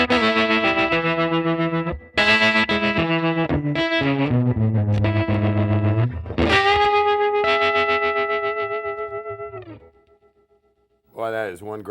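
Goodsell Unibox amp with the tremolo at maximum speed and depth, heard as guitar chords and notes pulsing rapidly in volume under heavy effect, loud and sustained, then fading out before a brief final strum.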